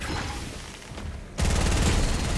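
Fortnite shotgun fire in a close-range fight: a loud, dense blast and sustained rattle of shots starting midway through, following quieter game ambience.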